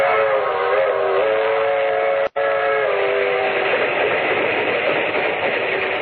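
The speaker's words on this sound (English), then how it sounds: "That train is the Southeast Limited. See it? Long and sleek and powerful, clicking off the miles on the humming rails." A loud, sustained rumble and tonal hum of a train on rails, broken by one brief dropout, steady and close throughout.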